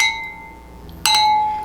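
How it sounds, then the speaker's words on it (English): Two glasses clinked together in a toast at a veterans day meal: a sharp bright chink after a quiet pause, ringing on like a small bell and fading slowly. "The best thing about this is clinking glasses."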